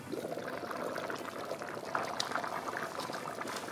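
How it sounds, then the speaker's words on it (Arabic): A pot of rice water boils on a stove in a home kitchen, a steady rolling bubbling and hiss that continues evenly throughout at moderate volume. "عايزه بس يغلي من جميع الاتجاهات."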